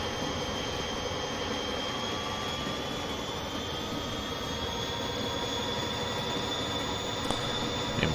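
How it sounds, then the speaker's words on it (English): A New Jersey Transit train in the Train Simulator 2020 video game rumbles past in a steady, loud, continuous roar with a sustained high wheel squeal and a brief clank near the end. "There comes another train."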